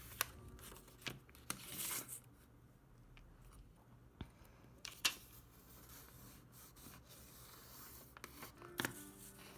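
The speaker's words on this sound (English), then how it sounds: "Fold along the marks." A paper envelope being folded by hand along marked lines: quiet crinkling and rubbing with scattered sharp creasing snaps, close and soft in a still room.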